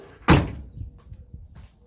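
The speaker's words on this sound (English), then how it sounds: "So let me close this door." A Honda Civic EG sedan door swings shut with a single solid slam, close and loud, followed by faint low rumbling and a few soft knocks.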